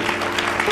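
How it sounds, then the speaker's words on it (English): A church congregation claps in praise, a brief, dense burst of applause filling the room at moderate volume. "Let's give the Lord a hand clap of praise."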